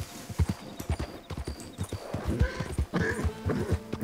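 In Red Dead Redemption 2, a horse's hooves clop in a brisk, steady rhythm, close and prominent. A faint whinny may come through, and a little talk sits in the background.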